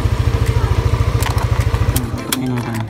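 A Yamaha Aerox 155 scooter engine running nearby, a rapid, regular putter of pulses that stops after about two seconds and leaves a quieter hum and clatter.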